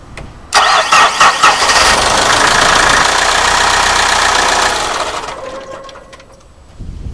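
A Mitsubishi Fuso Canter 4P10 diesel truck engine cranks and fires up after an oil change, running with a loud clattering rattle for several seconds until oil pressure builds, then settling into a quieter idle.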